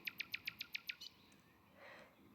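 Birds sing in a spring garden: a quick run of about seven bright, evenly spaced chirps, fairly close and clear, followed by a quieter trailing note against a faint outdoor background.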